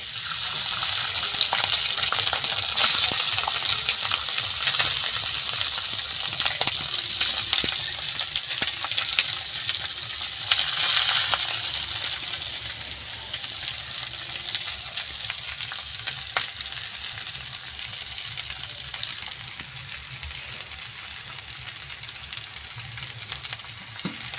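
Rice fries in hot oil with cinnamon, cloves and small cardamom for veg fried rice, a loud, dense sizzle with stirring scrapes and clinks that eases slightly toward the end, with no voices.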